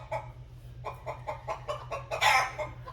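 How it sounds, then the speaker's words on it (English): Chickens cluck in a run of short, repeated calls over a steady low hum, with one louder, busier burst near the end, heard through a Poly Voyager 4320 headset microphone. "this is the sound of chickens in the background"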